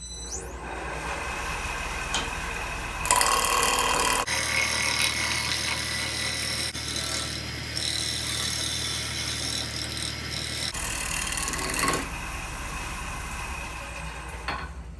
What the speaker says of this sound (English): So let's move on to shear scraping.